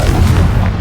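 Confringo blasting spell in Hogwarts Legacy, a short, loud, close burst with a low, booming body that rumbles on briefly.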